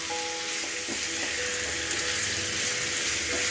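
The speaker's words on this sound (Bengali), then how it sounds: "হালকা রসুন কুচিটা একটু ফ্রাই হবে।" Chicken pieces and chopped garlic fry in a pan with a loud, continuous, close sizzle and faint stirring scrapes underneath.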